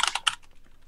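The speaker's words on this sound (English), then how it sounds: "she's typing that up" Someone types on a computer keyboard at a tabletop role-playing session, a quick cluster of crisp key clicks followed by a second short burst, then a faint quiet tail.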